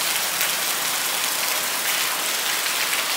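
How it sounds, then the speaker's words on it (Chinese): Rain pours down steadily outdoors, a dense, loud, unbroken hiss of drops striking surfaces nearby, with no voices. "天哪，别下雨啊！"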